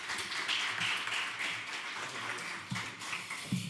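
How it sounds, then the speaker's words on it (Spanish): Audience at an education conference in Madrid applauding a speaker, scattered claps and taps of moderate loudness with faint voices underneath. "Un aplauso, por favor, para Germán."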